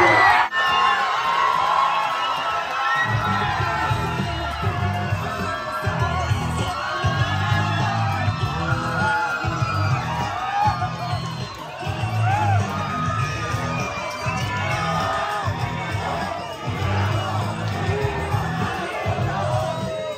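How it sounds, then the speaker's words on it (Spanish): A lively crowd cheers, whoops and shouts at an outdoor comedy show at a Xochimilco boat landing, a steady wall of noise lasting throughout with several louder swells of yelling. "Que grabe acá cuando te aplauden"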